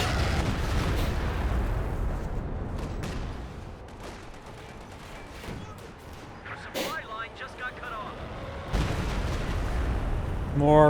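Artillery rounds land in a Company of Heroes 2 fight, heavy booming impacts and bursts of gunfire rising and falling over several seconds, with voices talking over the battle.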